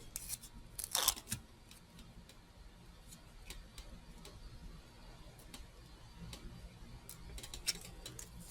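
Scissors snip through paper in one crisp close cut, then scattered faint ticks and rustles follow over a quiet background.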